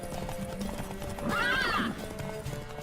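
A horse in The Witcher 3 gives a loud, rising whinny at mid-clip, with soft hoofbeats and ambient game sound running beneath it.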